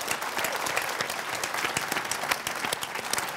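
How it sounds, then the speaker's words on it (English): An audience at a political discussion event gives a brisk, continuous round of applause, dense clapping from many hands throughout. "I'd like one more round of applause for all of them."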